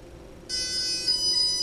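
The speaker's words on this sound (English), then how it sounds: "There's the beep." Electronic calibration beep from the ESCs of a Turnigy SK450 quadcopter, a steady high tonal beep with harmonics that starts abruptly and holds for over a second, close and clear.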